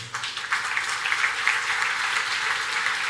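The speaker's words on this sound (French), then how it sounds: "J'applaudis pour vous. On applaudit." Steady applause from a church congregation at a Mass, a dense patter of clapping that holds evenly throughout with no voices.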